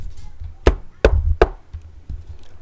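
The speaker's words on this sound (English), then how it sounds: "Little Red Riding Hood came knocking at the cottage door." Three sharp knocks on a wooden cottage door sound close and clear in quick succession, followed by a fainter fourth tap against a quiet background.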